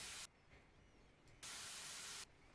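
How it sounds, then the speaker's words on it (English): Two loud hissing bursts of cleaner spray in the House Flipper video game, one short and one longer, separated by a quiet pause. "I guess I'll just spray in case there's something I don't see"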